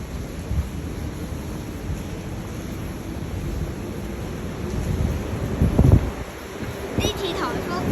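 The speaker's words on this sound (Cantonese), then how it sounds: "呢次颱風蘇拉真係好勁啊！ 我一直被風向前啊" Strong Typhoon Saola winds buffet the microphone in a continuous roar outdoors during heavy rain, with gusts swelling near the end.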